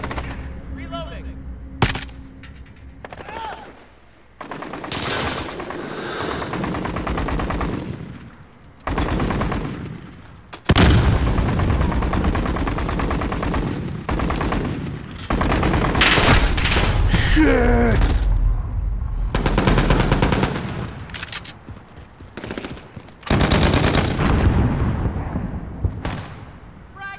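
Bursts of automatic gunfire and explosions in a Call of Duty match come in loud waves with gaps, mixed with in-game voices and a player talking.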